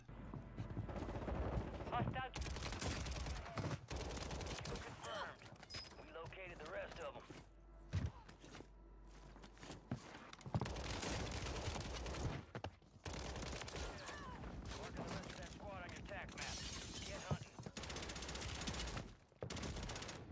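Warzone gunfire crackles in rapid bursts and sporadic single shots, some close and sharp, others muffled, with gaps of quieter action between volleys and voices talking over parts of it.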